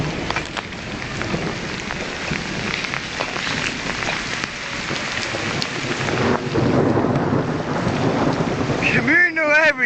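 Thunderstorm outdoors with heavy rain hissing steadily and deep rolling thunder rumbles, loud and continuous through the whole stretch, with a brief voice and clatter near the end.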